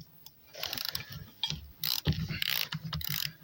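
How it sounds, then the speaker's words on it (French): A ratchet with a 19 mm socket works loose the wheel nuts on a Peugeot 205, giving quiet, close bursts of rapid clicking with short pauses between strokes. "Donc là, 19, avec le cliquet,"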